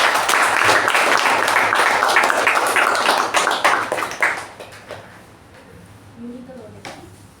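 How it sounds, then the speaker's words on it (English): A meeting audience at a Toastmasters club gives a round of applause, dense clapping for about four seconds that then thins into a few scattered claps and fades to quiet room noise. "That deserves another round of applause."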